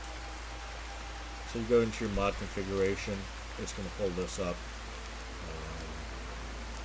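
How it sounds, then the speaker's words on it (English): Steady rain makes a soft, constant hiss throughout, while someone speaks over it. "Sorry about the sound of rain."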